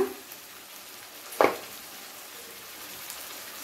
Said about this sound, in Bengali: এবারে সব মশলাগুলোকে ভালো করে একসাথে কষিয়ে নেব।